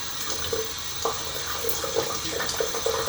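Tap water runs in a steady stream to wet a badger shaving brush, with a continuous close hiss and small splashes as the brush is moved under the flow.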